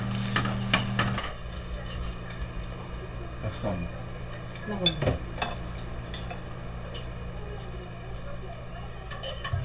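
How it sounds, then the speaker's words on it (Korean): Potato pancake reheating in a frying pan in a home kitchen at night, with stirring, scraping and light sizzling from the pan and utensils clattering against cookware, close and fairly steady. "엄마는 서둘러 감자전을 데운다"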